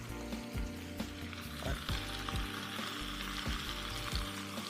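Pieces of whitefish hit a small, hot pan and sizzle steadily, with a string of low clunks and knocks from the pan and utensils under the crackle, fairly faint overall.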